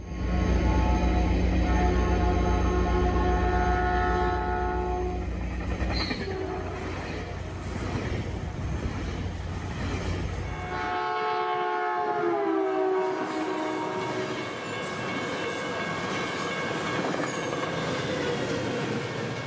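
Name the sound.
northbound train 239A barreling through Menlo Park station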